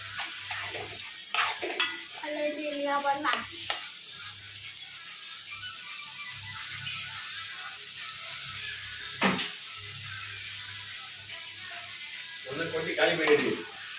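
Prawn thokku sautés in a pan as a spatula stirs it: bursts of scraping strokes at the start and end over a continuous oily sizzle, loud and close.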